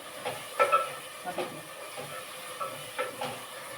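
Chicken liver fry with onion sizzling in a pan: a soft, steady hiss, fairly quiet and close, with a few faint pops and clicks and no talking.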